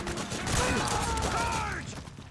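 Suppressing gunfire in the Metal Gear Solid 4 video game sounds as a dense fusillade of mixed shots and mechanical clatter, with shouted game voices and sweeping effects layered over it.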